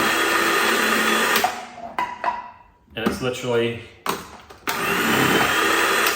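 An electric kitchen chopper whirs loudly as it chops an onion, running in a steady burst, cutting off, then starting again, with a person speaking in the pause between.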